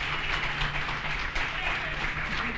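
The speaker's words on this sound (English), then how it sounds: "give it up for Michael Pickens" A convention crowd at the 2016 LPWA event applauds, a soft, diffuse patter of clapping held at moderate distance for a few seconds.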